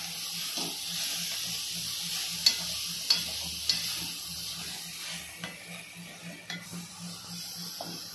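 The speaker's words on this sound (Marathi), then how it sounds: "थोडीशी वेलची टाकूया, थोडंसं परतून घेऊया" Carrot halwa with cardamom is sautéed in a pan, a faint steady hiss and sizzle with occasional light taps and scrapes of a spoon, with no voices.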